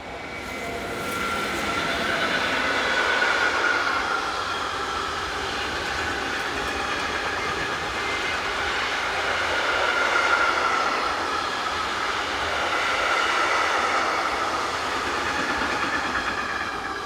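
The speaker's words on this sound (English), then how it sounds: "Unbelievably, classmate 189205 followed shortly after on a similar train." Class 189 electric locomotive 189205 hauling a train past on a European railway, a sustained rumble and rolling wheel roar with faint tonal whine, swelling and easing in waves over a long pass, no talk.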